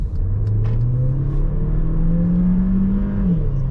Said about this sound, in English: when you do rev it out, which I'll demonstrate here, it is quite noisy